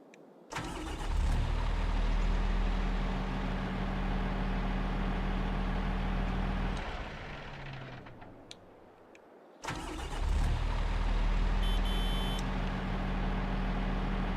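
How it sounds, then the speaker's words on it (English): A vehicle engine in Farming Simulator 22 cranks and starts, idles steadily, then shuts down. After a few seconds it starts again and runs loud and close, with a brief high beeping near the end. "Check the engine sounds."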